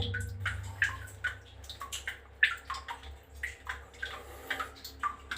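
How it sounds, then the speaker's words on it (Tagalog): Water flows strongly beneath a structure in the Dagupan area, sloshing and splashing in uneven pulses, moderately close, with a low steady rumble underneath. "Maagos yung tubig."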